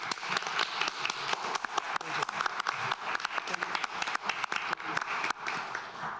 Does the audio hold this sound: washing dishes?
no